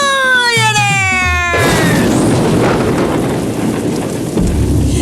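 A loud thunderstorm sweeps in with heavy rain and rolling thunder, following a brief rising tonal sweep at the start, the downpour a dense steady roar that fills the rest.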